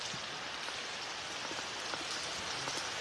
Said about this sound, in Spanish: recogiendo el agua de la lluvia